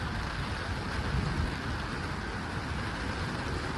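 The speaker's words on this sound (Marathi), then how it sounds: "सकाळपासूनच पावसानं जोर धरलेला आहे आणि त्याचाच फटका या मैदानावरती पाहायला मिळतोय" Heavy rain pours steadily onto the waterlogged, muddy Shivaji Park ground in Dadar, a dense, even hiss that fills the whole stretch with no voices.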